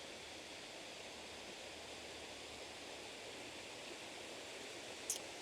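A steady, faint wash of falling water hisses continuously, distant and even, with one tiny click near the end.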